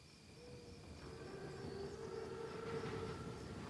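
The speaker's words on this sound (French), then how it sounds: "C'est le plus gros train que j'ai jamais vu." A huge German armoured train, a Panzerzug in Call of Duty WW2, rumbles along with a low rolling clatter and faint sustained whistle-like tones, distant and fairly quiet, slowly swelling.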